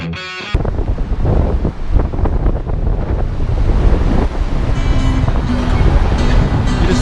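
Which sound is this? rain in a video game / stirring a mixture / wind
wind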